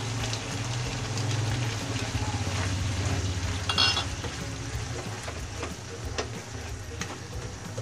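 Beef and mixed vegetables fry in a pan for beef picadillo, a steady close sizzle and crackle with stirring scrapes and a brief louder burst midway.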